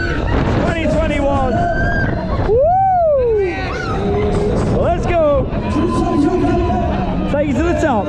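Crowd noise on opening night at Hyde Park Winter Wonderland by the Love XXL ride, with dense babble and a loud whoop over fairground music and wind.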